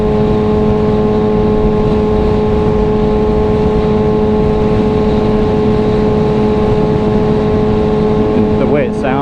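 A 2022 Kawasaki Ninja ZX6R fitted with an M4 exhaust holds a loud, steady engine drone at constant revs, with wind rush underneath and a brief shift in pitch near the end.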